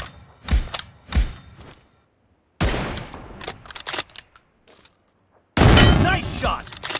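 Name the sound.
M24 sniper rifle gunshots in the video game BGMI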